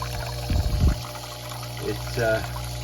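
Water pours and splashes loudly into a backyard pond at spring startup, then settles into a quieter steady trickle, with a few brief voiced sounds near the end.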